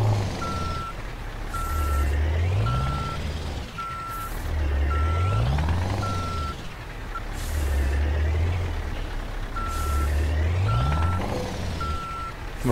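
A Scania V8 truck in Euro Truck Simulator 2 maneuvers with steady, repeating reversing beeps over a low engine rumble that swells and fades, with occasional hisses of air brakes.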